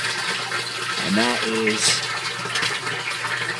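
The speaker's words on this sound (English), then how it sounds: "It's actually siphoning the water out of the tank right now." A bell siphon in a blue barrel aquaponics tank drains water with a continuous rushing, gurgling flow throughout, while someone talks briefly over it midway.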